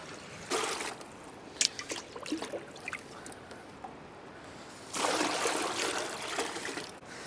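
On a sailboat in winter in Canada, water trickles and pours steadily into the boat's tank, quiet and close, with two louder rushing bursts and a few small knocks in between.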